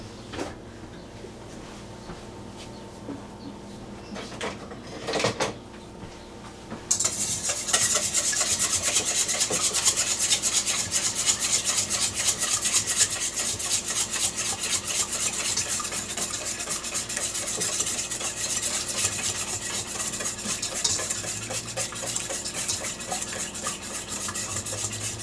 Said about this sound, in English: you just whisk your eggs